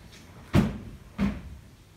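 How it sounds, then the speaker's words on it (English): Pocket doors in a hotel suite at a seaside Barbados resort are slid shut, giving two dull wooden thuds about half a second apart, close by in a quiet room. "There's also pocket doors that you can close"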